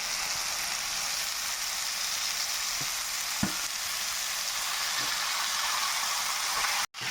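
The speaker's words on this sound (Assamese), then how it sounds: "এতিয়া এবাৰ ধুনীয়াকৈ এনেকৈ লৰাই দিলে শাকটোৰ লগত আলুটো মিক্সাকৈ।" Manimuni greens and half-boiled potatoes stir-frying in a pan, a steady broad sizzle running throughout with a few faint scrapes of stirring, close and continuous, then cut off abruptly near the end.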